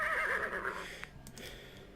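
A horse whinnies loudly and close in the Freddy Pharkas: Frontier Pharmacist adventure game, one long shrill neigh filling the first second before fading into quiet ambience with a couple of soft clicks.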